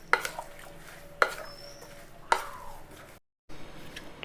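A spoon stirs curry ingredients in a pot, with three sharp clunks of utensil on metal spaced about a second apart and soft scraping between them. No one speaks.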